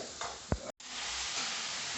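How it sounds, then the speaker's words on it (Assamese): Chicken fries in a kadai with a soft, continuous sizzle and occasional stirring scrapes, faint and close, with a brief dropout partway through. "কেৰাহীত গ'ল মুৰ্গী"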